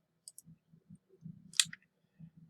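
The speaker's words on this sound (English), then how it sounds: "So I'll click here." Mouse clicks on a computer: a few faint, crisp clicks scattered over a couple of seconds, with a low hum and light handling noise.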